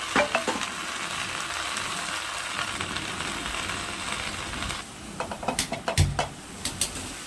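Manathakkali greens sautéing in oil in a pan, a steady soft sizzle with stirring, followed by a cluster of quick scraping and clinking spoon strokes near the end.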